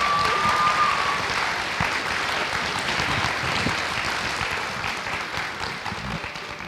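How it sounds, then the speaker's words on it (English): Sustained, loud applause from an audience after a school author-visit Q&A session, dense clapping that fills the room and tapers slightly toward the end. "Please give them a round of applause."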